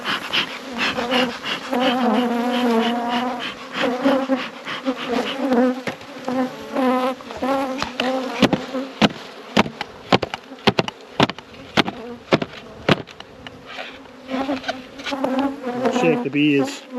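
Honey bees swarm around an open hive as supers are taken from a weak colony, a dense continuous buzz close to the microphone, broken by sharp knocks and taps of hive equipment.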